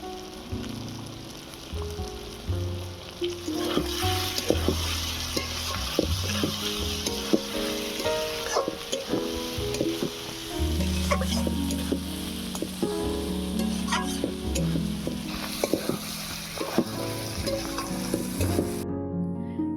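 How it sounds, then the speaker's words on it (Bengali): Soybean chunks stir-fry with slit green chilli and chopped coriander, a constant crackling sizzle broken by repeated scrapes and clinks of a spatula against the pan, close and busy throughout. "সয়াবিন ভালো করে কষানো হয়ে গিয়েছে।"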